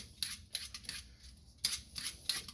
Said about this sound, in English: So we're only going to be using half of this cucumber, but I'm going to peel the whole thing.